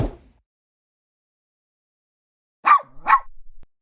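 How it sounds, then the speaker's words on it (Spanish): A family dog gives two short barks in quick succession near the end, close and fairly loud, after a brief muffled noise at the start and a long quiet stretch, during a firefighter rescue from a house fire. "voy a rescatar al perro de la familia"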